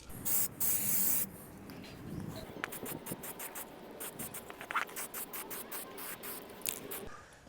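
Short hissing bursts of spray paint coat a replacement Mercedes part white, starting with a few loud blasts, then continuing as rapid, quieter sprays and rattling under a dull hiss.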